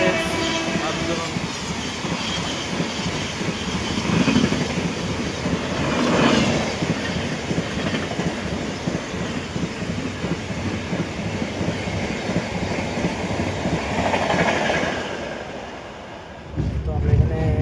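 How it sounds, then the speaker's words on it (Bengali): A passenger express train, the Doon Express, rolls into a station with a steady rumble and clatter of wagons under wind buffeting. Faint voices sit in the background, and the sound ends with a sudden drop and a thump. "ট্রেন এখন ঢুকছে"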